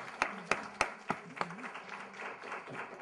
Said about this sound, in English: let me ask you please to join in a round of applause for an outstanding panel